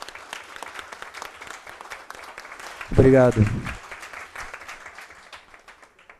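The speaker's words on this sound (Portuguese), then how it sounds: "pedir uma calorosa salva de palmas" Warm audience applause at a conference session on digital certification and electronic legal proceedings, steady dense clapping that swells loudly midway as someone briefly speaks a word of thanks over it, then thins toward the end.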